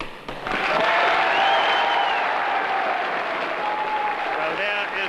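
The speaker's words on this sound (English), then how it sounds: "Well, there is the applause." Sustained applause from an assembled crowd greeting the declared 1959 general election result at Cheltenham, where the Conservative candidate was returned; the clapping is steady and dense throughout, with a voice faintly over it near the end.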